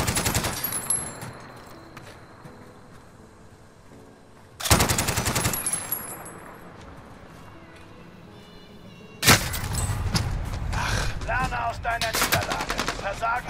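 Bursts of automatic gunfire in Warzone, three loud volleys separated by quieter stretches, each a rapid rattle of shots with sharp attacks, the last volley long and sustained.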